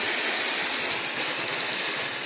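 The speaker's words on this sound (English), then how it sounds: "my alarm's about to go off here" An alarm clock beeps in a workshop where an HHO torch is being tested, two bursts of short repeated beeps, two then four, over a steady loud hiss of background noise.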